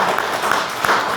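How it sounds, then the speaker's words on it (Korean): A church congregation applauds during a Sunday morning worship service, a dense, steady wash of clapping from many hands filling the room without pause. "박수로 격려 한번 하시죠."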